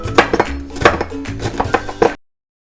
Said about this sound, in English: We're going to get our basil, we're going to chop it up.